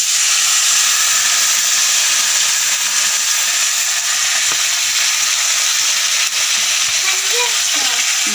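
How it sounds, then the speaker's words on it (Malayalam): Dried fish fries in a pan with a loud, continuous sizzle and hiss that stays close and steady throughout, with a few faint stirring clicks. "എന്നിട്ട് ഇനി ഞാൻ വത്തല മീൻ വറക്കട്ടെ."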